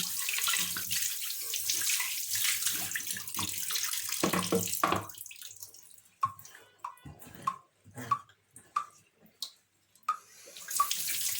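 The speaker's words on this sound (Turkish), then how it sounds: "Evet tahtamızı şöyle bir sudan geçireyim ben." Tap water pours steadily over a cutting board in a kitchen sink, then stops. Gentle splashes and drips follow as the board is moved and rinsed, close and without talking.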